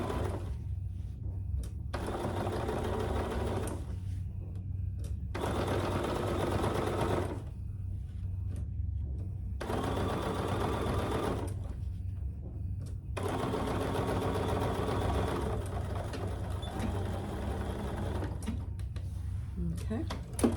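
A sewing machine top stitches along the edge of a fabric tote bag, running in steady whirring bursts of two to four seconds separated by short pauses, close and fairly loud throughout.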